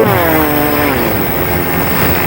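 A small camera drone hovers close and loud, its propellers whining in a steady buzz with slowly shifting pitch as it descends onto an outstretched hand.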